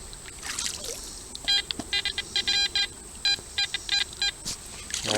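A metal detector sweeping in a rocky creek gives a run of short, even beeping tones, a dozen or so in quick rhythmic bursts, over the soft trickle of water.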